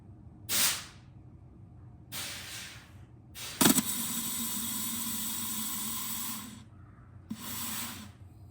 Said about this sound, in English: I'm gonna take the air gun and hook it up to the inlet for the rear brake lines